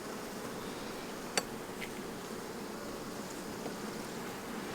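Honey bees buzzing around stacked hive boxes, a continuous soft hum with a couple of brief close fly-bys and faint clicks, no voices.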